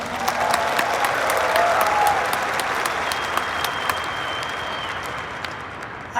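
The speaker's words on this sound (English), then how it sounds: "Clap it up for Nikki" Keynote crowd at Veecon applauding an audience member named Nikki, a sustained, even roar of many hands clapping that thins gradually toward the end, with no talking on top.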